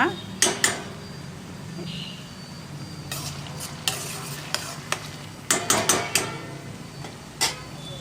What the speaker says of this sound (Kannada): ಇದು ಬ್ರೌನ್ ಕಲರ್ ಬರುವವರೆಗೂ ಹುರ್ಕೊಳ್ಳೋಣ